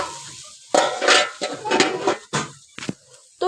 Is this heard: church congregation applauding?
no